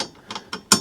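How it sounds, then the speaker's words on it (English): A wrench ratchets a bolt tight on a mobility scooter seat, giving three or four sharp, separate clicks spaced across under a second, close and distinct. "You can see it's spinning now, and basically put the wrench on top,"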